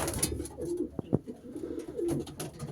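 Homing pigeons coo in a loft, a few soft low coos rising and falling over steady cooing and rustling from the flock, with two short sharp knocks midway.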